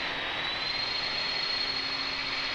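Constant jet engine drone with a faint rising high whine holds evenly for a couple of seconds, from a jet sitting overhead in Microsoft Flight Simulator beside a Douglas DC-3 in Minas Gerais.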